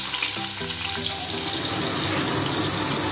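Cumin seeds and chopped onion dropped into hot oil in a kadai, a loud sustained hissing sizzle that bursts in abruptly and crackles on steadily, close up with no talking.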